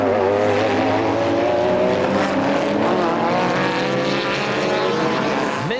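Racing cars in a BMW touring car race at Chimay accelerating off the start, a dense sustained engine roar with rising pitch as several cars pull away, loud and continuous.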